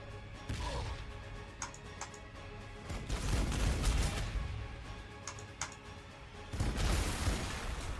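Grenade blasts in Warhammer 40k: Sanctus Reach, a turn-based strategy game: two loud, rumbling explosion bursts a few seconds apart, with faint mechanical clicks and ticks in between.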